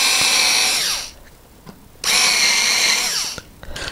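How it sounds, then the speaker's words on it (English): A low-power drill with a countersink bit bores into oak floorboard in two steady whining runs, each lasting about a second, with a quiet pause and light clicks between them. "So I've got a countersink bit on this low power drill, which I'm deliberately using"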